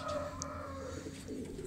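A pigeon kept for sale coos softly in a brief low murmur, with faint background noise and no voices.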